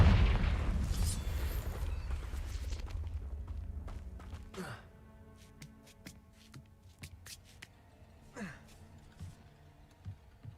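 Confringo spell explosion in Hogwarts Legacy: a loud blast with rumbling low boom that fades over several seconds, followed by scattered sharp magical impacts and clicks.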